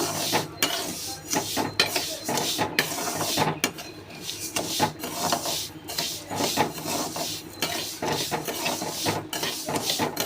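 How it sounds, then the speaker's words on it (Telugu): Fenugreek seeds are dry-roasted in a pan, producing close, rhythmic scraping and rasping strokes as they are stirred, with light rattles of seeds against the metal. "చూడండి వేపుతున్నాను"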